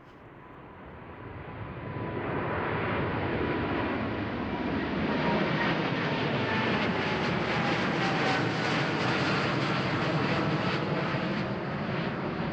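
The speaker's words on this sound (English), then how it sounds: "next up we got a Boeing 787-10 Dreamliner from KLM going to Nairobi" A KLM Boeing 787-10 Dreamliner jet airliner at Amsterdam Schiphol builds from a distant whine into a loud, sustained engine roar as it passes, with a broad rushing jet noise holding to the end.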